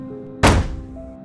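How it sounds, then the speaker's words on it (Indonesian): A heavy door slams shut in a horror story, one loud, sharp thud that decays quickly, set against a low, steady ambient drone. "pintu tertutup keras."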